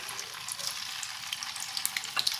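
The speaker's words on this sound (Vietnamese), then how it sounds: "các bạn chiên vàng hết các mặt cho mình ha" Steady crackling sizzle of tofu frying in hot oil, close and continuous, with small pops throughout and no talking.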